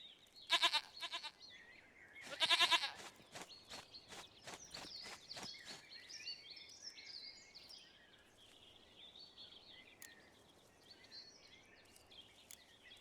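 A goat in The Witcher 3 gives two loud, close bleats near the start, followed by a run of short rhythmic clicks or footsteps and a faint, chirpy game ambience with no one speaking.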